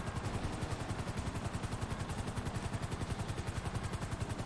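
Video game gunfire from aiming and shooting in a mod, heard as rapid, evenly spaced automatic shots that run continuously and loudly throughout.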